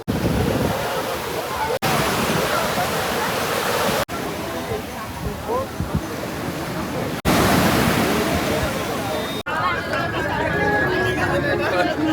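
Steady roar of ocean surf at Tajpur beach with waves washing in, heard under people chatting, broken by a few abrupt cuts.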